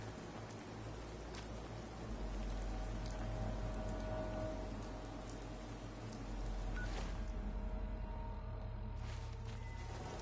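Steady, dense rain pours down continuously, a broad hiss of drops hitting surfaces throughout, loud and close with no pauses.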